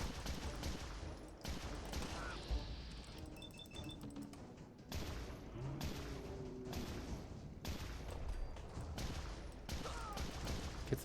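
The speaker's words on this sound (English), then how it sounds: "Okay, we need to use a faster weapon against this guy. How about this radium rifle," Rapid game gunfire from a radium rifle in Fallout 4 fills the scene as a dense, loud run of shots with short breaks, mixed with crashes and thuds of combat.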